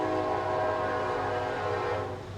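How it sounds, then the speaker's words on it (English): A train passes close by outside, its steady loud rumble and sustained horn tone filling the whole moment before easing slightly at the end. "the trains that run by our place are fucking egregious"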